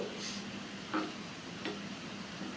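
Garlic and red chillies sizzle in hot oil in a pan, a continuous close frying hiss broken by a few faint stirring clicks, with no talk.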